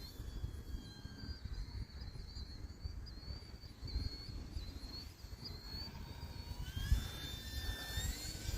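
An E-flite Turbo Timber Evolution 1.5m electric RC airplane flies overhead with a steady whining motor drone that holds for several seconds above a low outdoor rumble, with a slight swell near the end.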